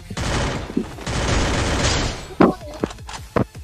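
A Famas rifle fires in a shooting video game, with rapid automatic bursts in a dense rattling stream followed by a few sharp, separate shots, close and loud, while someone talks over them.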